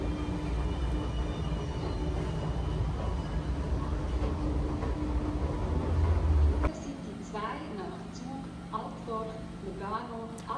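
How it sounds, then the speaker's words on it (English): A passenger train rolls into a Swiss railway platform with a loud, rumbling roar that cuts off abruptly after about seven seconds, leaving quieter station ambience with faint squeals and clanks. "Here is my train."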